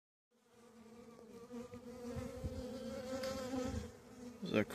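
Soft, droning hum of an overwintered Carniolan honey bee colony being opened in spring, a steady buzz with faint rustling and a small knock near the end.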